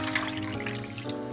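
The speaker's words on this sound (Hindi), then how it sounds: "मैं 1 कप चीनी डालूंगी और 1 ही कप पानी डालूंगी।" Water poured into a pan of sugar while making sweet-and-sour tamarind chutney, a steady splashing pour running close and continuous for the whole moment over a low kitchen hum.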